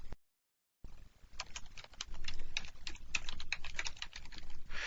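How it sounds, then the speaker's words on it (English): Rapid, uneven keystrokes of code being typed on a close computer keyboard, continuing for several seconds after a short silence with no talking. "I'll just type it in really quickly."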